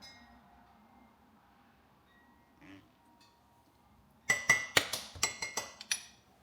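A metal spoon clinks rapidly against the sides of a mug while stirring coffee with creamer, about eight quick bright taps after a quiet start, close and clear.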